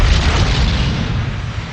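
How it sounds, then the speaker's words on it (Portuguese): Heavy naval cannon fire off Casablanca in World War II, a loud, dense, continuous booming roar filling the whole clip without pause. "os britânicos e os americanos são saudados pelos franceses de Vichy com fogo de canhão"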